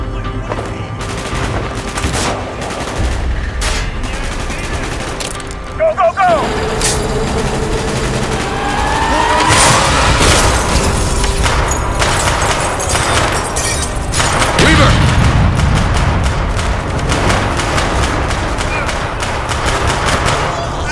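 Bursts of rapid gunfire and heavy vehicle rumble fill a loud battle scene in Call of Duty: Black Ops, with voices shouting over the continuous din.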